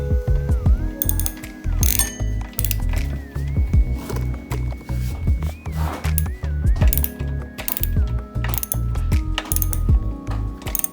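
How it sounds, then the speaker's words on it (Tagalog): Rapid ratcheting clicks from a socket wrench tightening bolts on the rear suspension of a Honda Wave S 125 streetbike project, fitted with white gold flower type shock bolts, repeating in loud steady bursts close by with no talk. "Higpitan na natin yung mga bolts."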